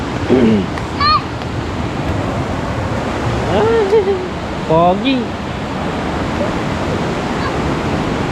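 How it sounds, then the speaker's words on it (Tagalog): A steady roar of rushing river water, swollen by rain, fills the whole stretch. A few short voices and chirpy calls rise briefly above the constant flow. "sobrang lakas pala ng uwan ng tubig dito sa ilog"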